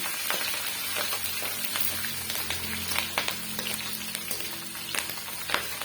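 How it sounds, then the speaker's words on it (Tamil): Ginger and onions fry in a pan, a steady close sizzle with crackling spits and soft scraping clicks scattered throughout, no voices. "பாருங்கள் அளவுக்கு எல்லாம் நல்லா ஃப்ரை ஆகிட்டு வந்துடுச்சு"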